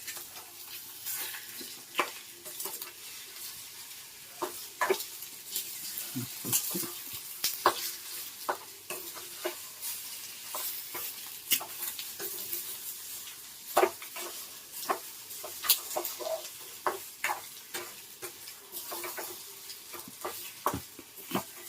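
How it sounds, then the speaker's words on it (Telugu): Chapati and egg scramble frying on high heat in a pan, a soft sizzle under frequent scraping and tapping stirring strokes in an uneven rhythm, close and fairly quiet. "ఇప్పుడు హైలోనే పెట్టుకొని ఫ్రై చేసేసుకున్నాము."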